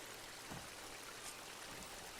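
Water leaks from a broken valve in Horizon Forbidden West, a faint, steady rushing trickle like a small stream, continuous and even throughout.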